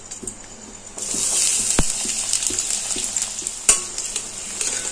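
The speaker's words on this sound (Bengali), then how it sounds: "আমি গ্যাসের ফ্লেমটা মিডিয়ামে দিয়ে পেঁয়াজগুলো আস্তে আস্তে ভেজে নেব" Chopped onions frying in hot oil and ghee over a medium flame, a loud continuous sizzle that swells after a second, with a couple of sharp utensil knocks against the pan, close by and with no voices.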